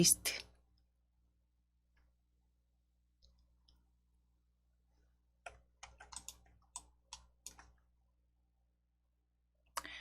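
Mouse clicks sound in short separate taps and a quick cluster of sharp, close, faint clicks against near silence.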